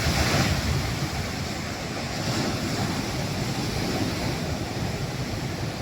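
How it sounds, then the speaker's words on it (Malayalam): Rough, churning sea waves crash and throw spray toward the shore, a continuous loud roar of surf and splashing water close by, with no voices. "കടലിങ്ങനെ കലങ്ങി മറിഞ്ഞ് തിരതല്ലി വെള്ളം തെറിച്ചിങ്ങോട്ട് വരികയാണ്"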